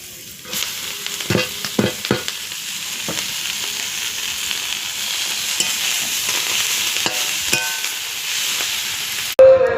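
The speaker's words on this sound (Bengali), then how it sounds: "এবার আমি শাক ভাজা বসিয়ে দেবো" Leafy greens frying in hot oil in a karahi sizzle constantly nearby, broken by sharp scraping strokes of stirring, and end with a sudden loud clatter.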